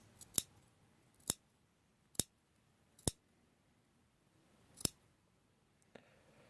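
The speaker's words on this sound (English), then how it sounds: "trim this edge up a little bit, since we don't need that much." Scissors snipping the edge of material for a sculpted head, five sharp isolated cuts spaced about a second apart in a quiet room, followed by a faint rustle.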